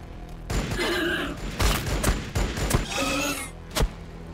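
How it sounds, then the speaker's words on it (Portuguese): Bursts of gunfire and thudding impacts from the Warhammer 40k Battlesector video game, a rapid volley followed by scattered heavy shots striking the ground, loud and close with a short sharp hit near the end. "Os tiros pegam na terra também"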